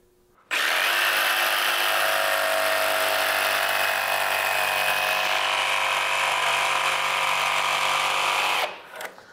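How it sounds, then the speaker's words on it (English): A jigsaw fitted with an ordinary blade cuts through a real wood flooring plank, its loud steady buzzing whine holding for about eight seconds after a sudden start and then stopping abruptly. "This is not anything special for a jigsaw blade. It's just your standard jigsaw blade."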